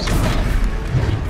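A Descendo spell slamming down during a boss fight in Hogwarts Legacy, a loud, dense crashing boom that fills the short moment with heavy low rumble.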